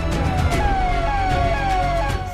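A police jeep's siren sounds continuously during an election flag march in Sardarshahar, Rajasthan, its wailing tones sliding steadily downward over loud street and engine noise.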